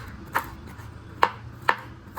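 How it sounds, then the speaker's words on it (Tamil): A knife chops ingredients finely for butter garlic prawns, four sharp separate knocks on the board spaced about half a second apart, close and fairly loud over a low background hum. "நல்லா எவ்வளோ பொடியாக நறுக்க முடியுமோ நறுக்கிக்கோங்க"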